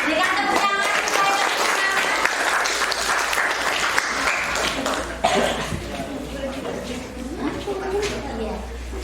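Applause from a classroom group at a teacher training presentation, dense clapping at first that thins out, with coughing and voices talking over it.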